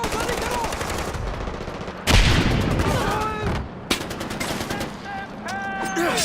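Gunfire in Far Cry 4, heavy rapid bursts and sustained automatic fire ringing out loud and close, broken by short gaps and sharp single shots, with a whistling ricochet-like streak near the end.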